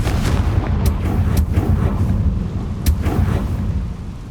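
A Confringo fire spell exploding in the Hogwarts Legacy video game, heard as a loud, deep rumbling blast with a few sharp crackling pops across a few seconds, close and with no talk.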